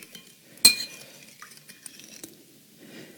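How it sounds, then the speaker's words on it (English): A utensil stirs a yeast mixture for vegan pizza dough in a bowl, starting with one sharp clink and followed by quiet scraping and light taps against the side, close and sparse, with no speech. "So we'll go ahead and put this into the mix. Give it a little bit of a stir."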